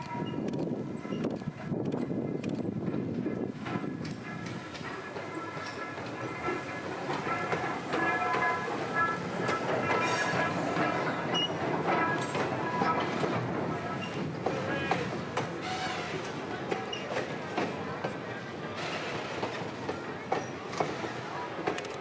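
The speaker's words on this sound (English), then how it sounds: "to get a nice shot of Thomas pulling his train back south." A Thomas-themed locomotive pulls a passenger train away from a Central Florida station, giving a steady rumbling roll with faint rhythmic clatter from the cars, heard from a moderate distance.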